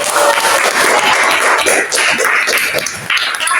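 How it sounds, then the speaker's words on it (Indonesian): A classroom of schoolchildren claps for the first group after its presentation in a maths lesson, a dense, steady patter of many small hands filling the room at a loud, even level. "Kita beri tepuk tangan dulu untuk kelompok satu"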